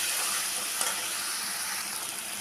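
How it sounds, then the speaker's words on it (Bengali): Snake gourd and shrimp frying in a pan, an even, dense sizzle holding steady for a couple of seconds, close and without any talk. "তো আরও কিছুক্ষণ ভেজে নেব।"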